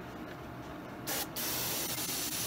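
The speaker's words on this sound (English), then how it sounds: "Just gonna spray a little around the toe," Dye sprays from a can onto leather shoe uppers around the toe and a damaged area, a close, steady hiss lasting a couple of seconds.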